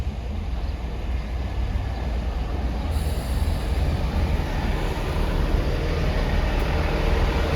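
Great Western Railway unit 166205, a refurbished diesel multiple unit, pulling away from Parson Street toward Bristol Temple Meads, heard from on board as a steady engine rumble and rolling rail noise that builds gradually, with no talking.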